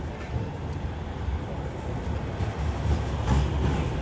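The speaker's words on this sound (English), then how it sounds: "Bro, they even got trams here as well." A tram running along a Manchester city street, a low steady rumble of rail wheels that grows louder toward the end, heard alone without talk.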